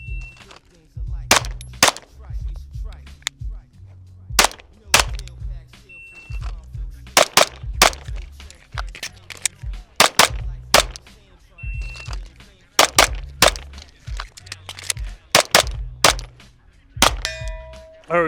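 A pistol fitted with a magnetic red dot optic mount fires repeated sharp, loud shots in irregular bursts, with brief pauses between strings and people talking quietly in the background.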